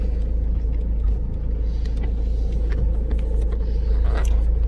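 A 1998 Renault Laguna 2.2 diesel runs steadily, a loud, constant low rumble and engine drone with faint intermittent clicks and knocks on top, no talk.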